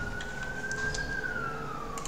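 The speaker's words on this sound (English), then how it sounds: "Sorry for the sirens in the background." A single emergency siren wails steadily in the distance, a long sustained tone slowly sliding in pitch against low background hum.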